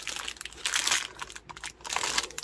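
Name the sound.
unwrapping a plastic bag from a parcel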